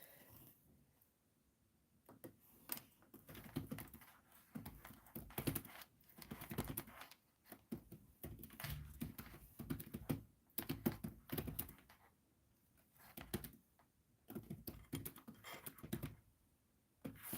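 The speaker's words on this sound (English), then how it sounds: "And I'm just typing" Keys clatter in bursts on a computer keyboard during a livestream, quiet, close-up tapping that comes in clusters separated by brief pauses.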